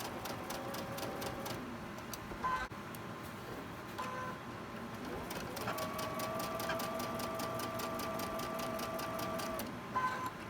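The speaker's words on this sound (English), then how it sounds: "The machine's going to pull your fabric for you." A sewing machine stitches quilting cotton fabric in a steady, fast mechanical whir with rapid needle ticking that runs almost unbroken, close up, with brief pauses and changes in pace.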